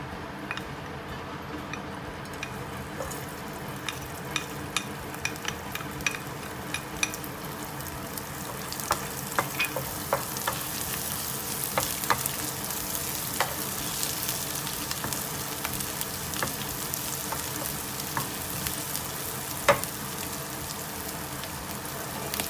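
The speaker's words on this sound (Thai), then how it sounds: "เริ่มร้อนนะคะก็จะใส่พริกกระเทียมนะคะลงไป" Chili and garlic fry in a hot pan with a continuous close sizzle, dotted with sharp pops and crackles that grow busier and louder as cooking goes on.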